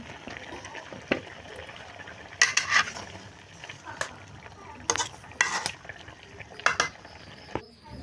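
Fish curry with gravy and pumpkin bori being stirred in a pot, with intermittent scraping and clattering bursts over a low, steady simmer, close by and moderately loud.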